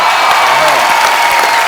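Studio audience applause fills a comedy show during a Sufi music night, a steady, dense wash of clapping with crowd noise running loud and unbroken throughout.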